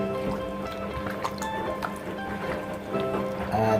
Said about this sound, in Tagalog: At haluin natin mga kabosing.